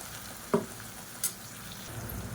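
Onions with freshly added ground paste frying in a pan for a home-style side dish, a quiet steady sizzle with two brief clinks of a utensil against the pan, no voices.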